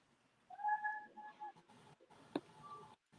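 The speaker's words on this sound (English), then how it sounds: "Cat." A cat meows close by in a couple of short, tonal calls, followed by quieter rustling and a brief sharp click in an otherwise quiet room.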